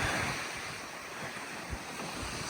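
Surf washing against the rocky shore at Blowing Rocks in Hobe Sound, Florida, a steady broadband roar with wind buffeting the microphone and a small surge near the end, no voices.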